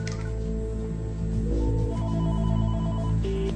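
A phone rings with a repeating electronic ringtone from an incoming call, close and clear, sounding alone for a few seconds with no talk.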